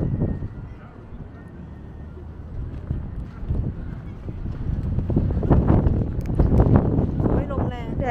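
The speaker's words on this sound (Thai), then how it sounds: "ลมแรงแดดดีแต่ลมแรงมากค่ะ" Strong wind on a sunny city walk through Zurich during the Easter holiday, roaring and buffeting the microphone in a low rumble that swells louder toward the end, with voices faintly mixed in.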